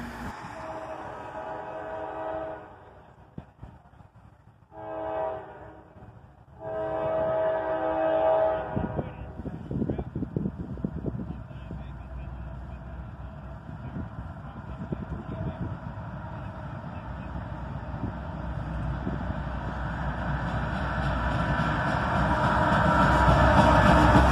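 A southbound BNSF freight train led by a pair of AC44CW locomotives rumbles past with heavy engine drone, growing louder and steadier toward the end, with a brief lull early on.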